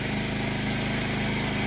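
A wet abrasive blasting machine runs steadily at close range for Land Rover panel work, a loud, even engine-and-pump drone with a throbbing low pulse and broad hiss throughout.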